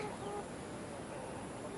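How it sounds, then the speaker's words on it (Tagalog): Pet chickens cluck and murmur steadily at close range while being fed organic feed, a dense continuous flock chatter with no single call standing out. "So tayo, magpapakain tayo ng ating mga alagang manok."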